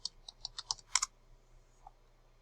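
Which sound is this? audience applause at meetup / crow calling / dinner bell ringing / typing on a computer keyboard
typing on a computer keyboard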